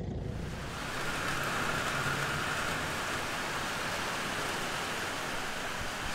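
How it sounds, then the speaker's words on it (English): Rain suddenly pours down outdoors, a loud, dense, steady hiss of drops that swells in the first second and holds evenly, with no voices. "Look at that, we got rain finally."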